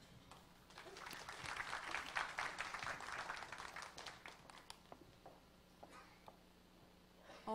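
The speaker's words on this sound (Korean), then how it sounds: "그러면 큰 박수와 함께 모셔보겠습니다." A modest audience at a venture forum lecture claps to welcome a guest speaker from Johnson & Johnson, quiet and a little distant, swelling for a few seconds before thinning to scattered claps.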